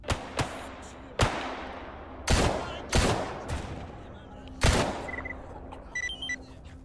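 Bandits shooting in the video game S.T.A.L.K.E.R.: scattered gunshots, some sharp and close and others duller, each followed by a short echoing tail, with a faint electronic beep near the end.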